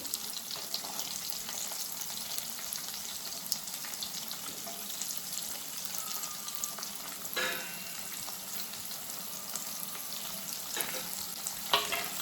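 Finely sliced onions and a green chilli frying in a pan, a steady soft sizzle throughout with occasional stirring scrapes and a brief water-like splash, no voices.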